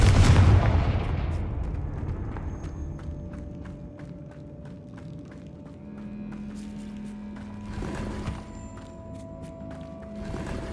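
A Confringo explosive spell cast in the Hogwarts Legacy video game, a heavy booming blast at the start that decays into rumbling, followed by footsteps and small game sound effects.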